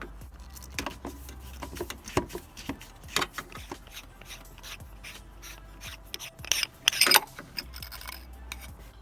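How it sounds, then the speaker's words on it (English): Bottom half of a Mishimoto Compact baffled oil catch can being unscrewed by hand, a close, quiet series of scraping and rubbing thread sounds with small metallic clicks and taps, louder near the end. "now that I've unmounted the baffle catch can, I can go ahead and unscrew the bottom half."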